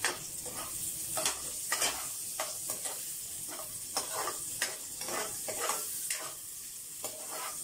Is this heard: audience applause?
no